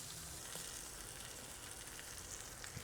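Tomato paste sizzling steadily in a hot pan, a soft continuous frying hiss at low volume with no talking.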